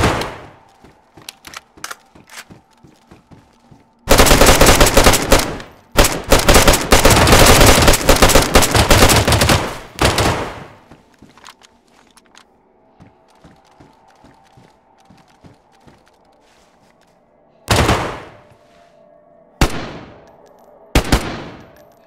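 Aug A1 rifle gunfire in DayZ on the Namalsk map: a few isolated shots, then a long loud burst of rapid automatic fire, followed by scattered shots, quieter clicks and two more short bursts near the end.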